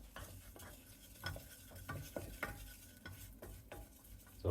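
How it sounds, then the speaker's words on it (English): Flour being stirred in a non-stick pan: a steady, soft sizzle with repeated scraping strokes of the utensil against the pan, close and fairly quiet, with no voices. "You're going to keep stirring so it doesn't burn, but you want the flour to cook."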